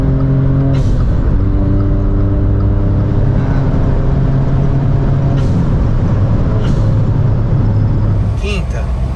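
A VW Up TSI with Stage 2 tune and Golf GTI-style exhaust accelerating under load in fifth gear, a steady loud droning engine note from inside the car with brief hissy bursts, someone talking over it.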